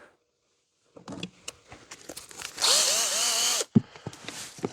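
After a second of silence, a few light clicks and handling taps lead into a power drill that spins up and runs for about a second, winding up and down in pitch before it stops abruptly, with more clatter after.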